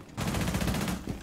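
Dense burst of rapid gunfire in Rainbow Six Siege, a sustained rattle of shots lasting about a second, fairly loud with no talk over it.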